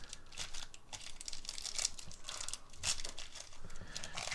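Yu-Gi-Oh trading cards from a Lightning Overdrive booster box being shuffled by hand: soft, close crinkling and riffling in quick irregular bursts, faint and steady with no talking.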